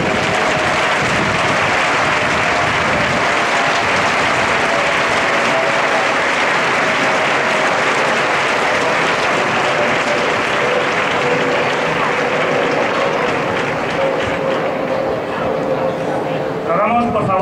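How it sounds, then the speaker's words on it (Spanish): Sustained applause from a crowd honoring the banner bearers of a royal cofradía at a canonical coronation ceremony in El Molar, dense and steady throughout, with a dog barking and people talking faintly underneath near the end. "Un aplauso para ellos, por favor."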